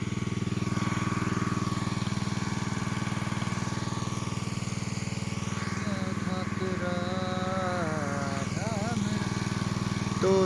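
A petrol-engine sprayer machine runs steadily for spraying mango and lychee trees, a loud continuous engine drone lasting the whole stretch, with faint voices and a few whistling tones partly heard over it.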